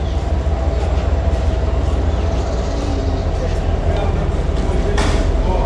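The Subarna Express, running Chittagong to Dhaka, stands at the station with a steady, dense rumble of train and platform noise throughout, and someone talks over it.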